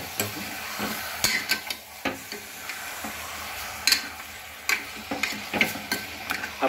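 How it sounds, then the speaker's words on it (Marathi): Goat mutton sautéing in a pan, with scattered irregular clicks and scrapes of stirring over a soft steady sizzle, fairly close and with no voices. "याच्यामध्ये बकऱ्याचं मटण टाकलेलं आहे मित्रांनो आणि याला आपण आता परतून घेऊ"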